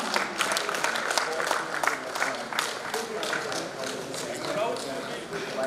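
Audience applause for contestants at a national corporate and inter-business-school quiz competition, a steady burst of many hands clapping, moderately loud with a few voices mixed in.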